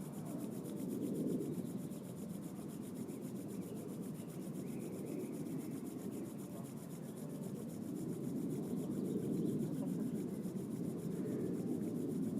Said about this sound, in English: we'll bring the hands to the heart center and rub them together a little bit